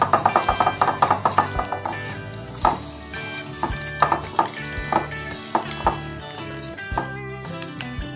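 A spoon scraping and clinking against a bowl while mayonnaise and cream are mixed for a Russian salad, with repeated rhythmic taps and stirring strokes at close range.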